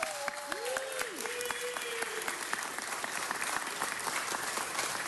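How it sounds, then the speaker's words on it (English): Audience applause at a city council meeting, a steady crackle of clapping through the whole stretch with a brief whistle-like tone near the start, moderately distant. "A big round of applause for Ritchie Valens."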